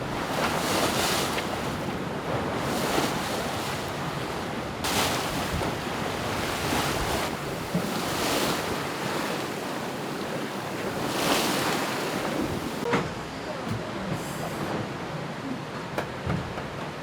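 Foiling sailboat reaching in about 10 knots of wind, steady wind rush across the microphone with waves hissing and washing along the hull, loud and continuous with occasional gusty bursts and no talk.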